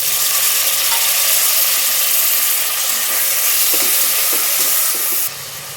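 Finely chopped tomatoes frying with turmeric for a poori sagu: a dense, loud hiss holds steady and close for about five seconds, with faint clicks near the end before it drops away.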